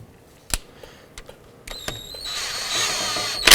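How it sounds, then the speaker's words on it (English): A new brake caliper bolt on a 2004-2009 Dodge Durango is snugged down with a power tool: a few sharp clicks, then a rising mechanical whir with a ratcheting buzz that ends in a loud burst up close. "I'm going to go ahead and snug that down."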